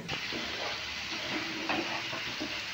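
Onions sizzle and fry in a pan for a Bengali chana masala, a soft continuous hiss with faint stirring scrapes, quiet and close, with no one speaking.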